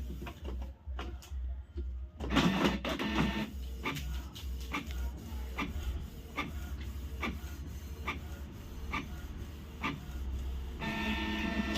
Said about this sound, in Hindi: एक बार ये प्रेस कीजिए, एक प्रिंट आउट निकलेगा।